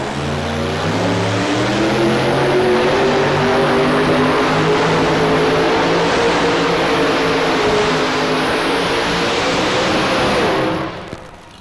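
A tractor pull machine roars through its run at the 1995 National Farm Machinery Show in Freedom Hall, a loud, continuous engine howl whose pitch slowly climbs before it cuts off abruptly.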